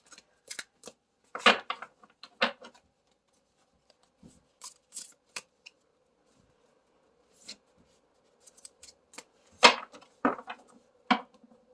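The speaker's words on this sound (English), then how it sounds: "I'm so used to shuffling my other decks, I forgot how thick this deck is." A thick tarot deck being shuffled by hand, with bursts of riffling and sliding card noise separated by short quiet pauses, close and fairly soft.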